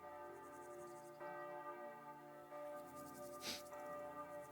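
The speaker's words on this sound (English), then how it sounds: "You can actually hear the church bells ringing." Faint, sustained tones of church bells ringing in the distance in Kingdom Come: Deliverance II, several strikes overlapping with long ringing decay, no talking.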